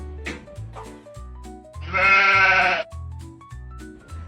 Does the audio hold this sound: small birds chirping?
no